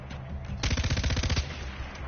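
Rapid automatic gunfire in the shooter game Far Cry 4 rattles out in a loud, evenly spaced burst of about a dozen shots lasting under a second, over steady game background noise.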